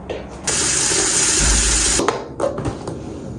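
Hot water gushes steadily from a tap for a couple of seconds, then shuts off, followed by a few clinks and soft handling noises while makeup brushes are washed.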